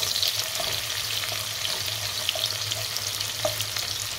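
Onions frying in hot oil for a chana pulao, a steady close crackling sizzle that runs throughout with a few small pops and no voices.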